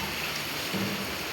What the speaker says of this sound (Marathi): पाऊस कसा आला असं.